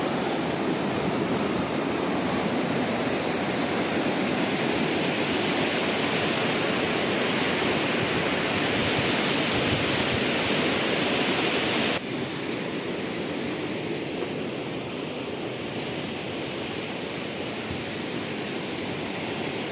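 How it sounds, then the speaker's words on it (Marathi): The Godavari river in flood rushing at full speed past a temple, a loud, continuous, dense roar of churning water that fills the whole scene without a break. "फुल स्पीडनं पाणी वाहत आहे"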